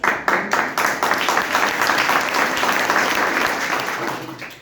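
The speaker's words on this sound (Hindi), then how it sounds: "अभी तालियां काफी बुलंद है" School students break into vigorous, loud applause in a classroom, a few sharp claps at the start swelling into a thick, continuous burst that gradually tapers off.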